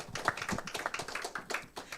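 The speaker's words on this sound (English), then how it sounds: "give applause for these two of speakers" Audience applause for two speakers at a seminar during an MoU signing ceremony and international webinar, a dense patter of many hands clapping steadily for about two seconds with no talk.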